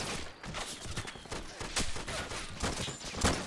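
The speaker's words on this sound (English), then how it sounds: "They do got a lot of supporting fire from the landing craft over here." Sustained gunfire in the Army Men: Plastic Wars video game as landing craft lay down supporting fire in a large battle, a dense, continuous barrage of overlapping shots at moderate loudness.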